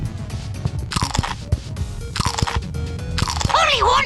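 Parrot character crunching crackers in a Peppa Pig video game, several short crisp crunch bursts spaced apart, with a squawk near the end and game music underneath.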